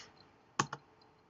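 Computer keyboard typing a web address, just two quick close key clicks in a quiet room, faint and brief.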